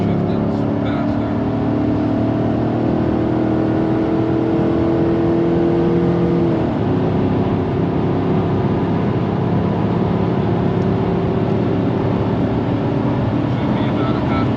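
A vehicle with a 5.3L engine and a Superchips Flashpaq tune accelerating hard on a quarter-mile run: a loud, steady engine drone from inside the cabin, with one gear shift where the pitch drops midway.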